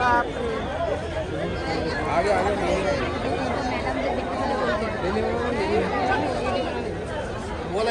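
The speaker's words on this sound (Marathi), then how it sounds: "किती गर्दी इथं ना" Dense crowd chatter fills the grounds of Prem Mandir temple in Vrindavan, many voices overlapping into a steady, close babble that holds at an even level throughout.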